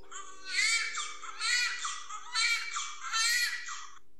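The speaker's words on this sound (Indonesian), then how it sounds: "terdengar suara tangisan bayi yang memecah kesunyian malam" A newborn wails in four loud, rhythmic bursts with short gasping pauses between them, close and clear against a quiet background.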